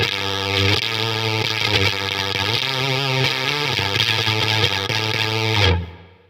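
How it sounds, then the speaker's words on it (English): An electric guitar runs through a Cuvave Fuzz pedal, with flanger and reverb on, strumming thick, saturated chords in a steady rhythm before cutting off to silence at the end. "the Cuvave Fuzz is actually quite responsive"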